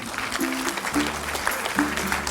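An audience claps at an improv show about climate change, a steady patter of applause with a voice speaking over it.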